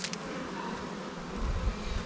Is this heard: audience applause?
no